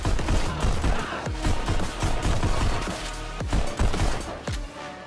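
Gunfire in the VR shooting game Pistol Whip rings out as rapid, irregular bursts of sharp shots over a busy, loud backdrop, many cracks packed closely together.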